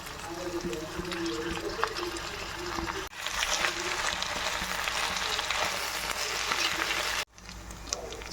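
Washed coriander and mint leaves frying in a pan with browned onions for chicken samosas, a steady close sizzle with stirring scrapes and a voice talking over it.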